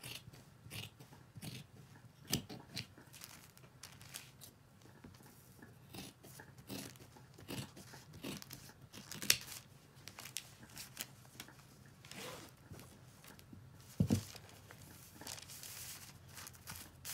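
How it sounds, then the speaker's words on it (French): Scissors snipping through a strip of mask fabric, a series of faint, irregular crisp cuts and rustles close by, with quiet gaps between them and no talking. "Et je coupe comme ça toute ma bande dans ce tissu."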